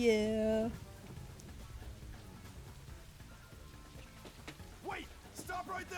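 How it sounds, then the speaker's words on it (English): Rain in the video game Master Detective Archives: Rain Code falls as a faint, steady hiss of patter throughout, with a brief tonal sound at the start and a few short vocal sounds near the end. "The rain is falling down in really weird clusters."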